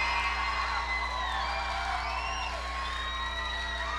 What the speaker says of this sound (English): Come on, people, don't stop screaming. Let's hear some noise.